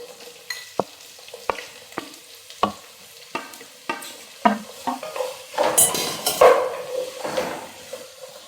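Shallots and a piece of onion frying in a pan for a village-style chicken curry, with a steady sizzle and a series of sharp spatula taps and scrapes against the pan that build into busier stirring near the end.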